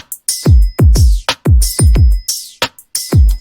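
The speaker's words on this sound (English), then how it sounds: "This effect called Roar and their preset drum kit enhancer," A punchy drum pattern processed through a Roar effect's drum kit enhancer preset, with deep booming kicks and bright, washy cymbal hits in a steady, full groove, loud and close with no other sounds.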